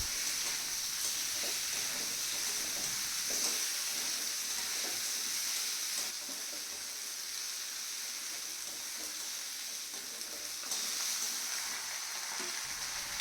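Chicken stir-frying in a pan with garlic, ginger and onion for a black-sesame chicken dish, giving a steady, close sizzling hiss with soft stirring scrapes throughout and no talk.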